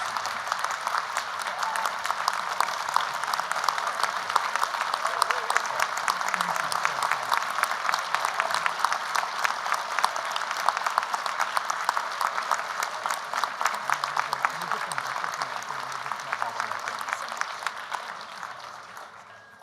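An audience in the General Assembly Hall at a Model UN conference opening ceremony gives sustained, dense applause for nearly twenty seconds, loud and close, tapering off at the end.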